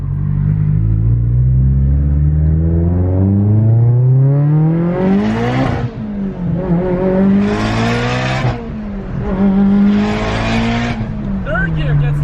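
A Nissan 350Z engine revs hard and climbs through the gears, pitch rising steadily with several shift breaks and bursts of roar, loud and close from inside the car.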